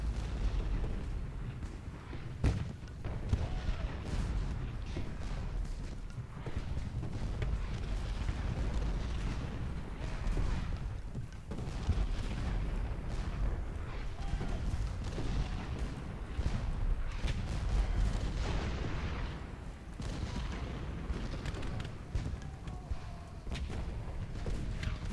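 Continuous rumbling artillery fire and distant booms from a Gettysburg battle in the Ultimate General: Gettysburg strategy game, a steady dense barrage with occasional sharper cannon blasts throughout.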